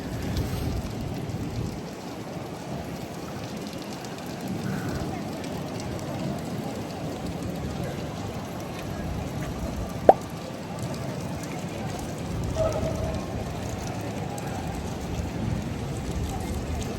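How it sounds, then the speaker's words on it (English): Steady rain hisses evenly throughout, with a single brief sharp knock partway through. "boom, it's raining."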